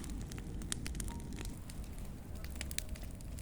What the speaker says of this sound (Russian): Вот наш костерчик.